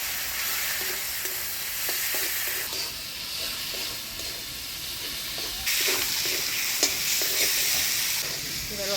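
Ground spice paste with turmeric and salt sizzles in a frying pan with a little water while being stirred for a jackfruit and prawn curry, a continuous bright hiss broken by repeated scraping strokes of the spoon.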